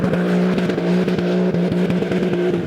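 Porsche 911 Dakar in off-road mode on sand dunes, its engine holding a steady, loud drone with rhythmic pulsing as it drives hard and close.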